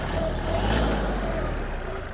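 Kubota GL-29 mini tractor engine, freshly serviced and warmed up, revs up in a steady, loud low drone that swells slightly mid-way and holds close to the mic.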